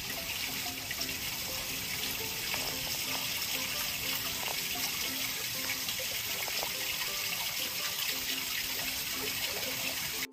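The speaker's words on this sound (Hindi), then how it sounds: "पानी का आप आवाज सुन सकते हो बैकग्राउंड में" Water runs steadily in a peaceful natural garden setting, a continuous broadband rush that stays even and fairly close throughout, with no talking over it.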